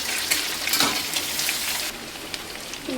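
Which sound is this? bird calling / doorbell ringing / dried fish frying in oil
dried fish frying in oil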